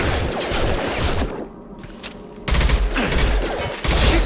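Dense sci-fi gunfire in the video game Mass Effect 2, rapid overlapping shots and combat noise with a brief lull in the middle before heavy firing resumes, loud and close.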